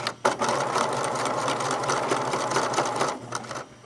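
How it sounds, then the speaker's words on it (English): A sewing machine runs steadily and close up for a few seconds, back stitching through fabric, with a fast mechanical whir and needle chatter and a brief stop near the start. "do a little back stitching"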